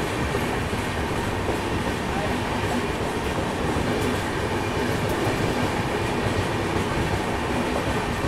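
The Kongu SuperFast Express train runs on the main line, a loud, steady rumble of wheels on rails with a constant roar and a faint rhythmic clatter, heard up close throughout.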